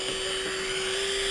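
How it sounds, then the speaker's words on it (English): Dremel rotary tool cutting into a boat deck for a flush-mount rod tube, giving a steady high-pitched whine with a constant tone, close and continuous without pause, and no talking. "Alright, got my Dremel going."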